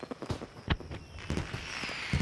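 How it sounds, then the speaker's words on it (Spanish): Fireworks in a children's cartoon go off as scattered sharp pops and bangs, some louder and nearer, over a faint background. "Los fuegos artificiales suenan muy fuerte."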